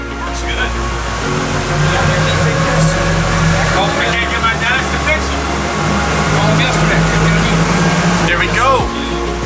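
A fishing boat runs out an inlet in the Bahamas, its engine a loud, steady low drone with shifting tones, while voices talk over it.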